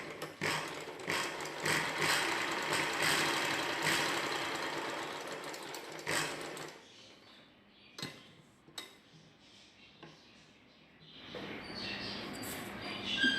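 Sewing machine stitching a buckram interlining piece onto the centre of a marked dress piece, a steady close whirring run that stops partway, followed by a few isolated clicks and a short second burst of stitching.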